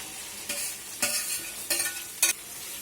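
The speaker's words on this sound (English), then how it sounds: "Now add aloo into the" Potato pieces fry in oil in a kadai and get stirred, a steady soft sizzle with four brief scraping stirs at regular intervals.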